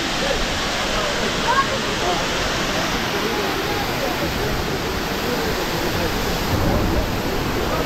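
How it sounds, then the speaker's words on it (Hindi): Waterfall in Coorg carrying plenty of water, roaring as a steady, loud, unbroken rush with no talk over it. "ये है अभी फॉल्स।"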